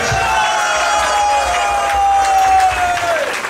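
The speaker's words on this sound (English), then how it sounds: "let's give a huge round of applause to Bhaktimarga Swami Maharaj" A large crowd at a Vyasa Puja celebration applauds loudly for Bhaktimarga Swami Maharaj, with continuous close clapping and cheering, including a drawn-out vocal whoop, sustained throughout.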